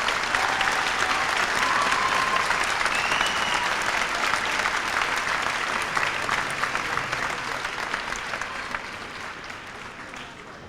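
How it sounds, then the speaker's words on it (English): A full auditorium applauds at a 1993 high school senior academic recognition ceremony, sustained even clapping over ten seconds that slowly thins and fades toward the end. "Let's hear a nice round of applause"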